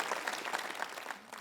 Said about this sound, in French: Vous devriez applaudir pour ensemble accueillir